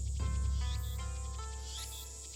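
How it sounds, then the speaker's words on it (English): Cicadas buzzing in the Steins;Gate visual novel game, a dense steady high-pitched drone with layered tonal chirps over a low background hum, continuous and fading slightly toward the end. "Damn cicadas won't shut up."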